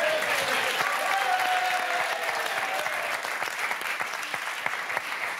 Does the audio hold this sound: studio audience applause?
yes